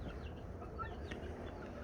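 Backyard chickens with a four-year-old rooster, alongside a mother hen and chicks, give faint, scattered clucks over a steady low background rumble.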